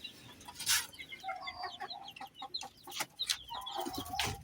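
Chickens in a newly built homemade coop cluck and chirp in scattered, overlapping calls close by, with brief rustling and louder bursts between them and no talking.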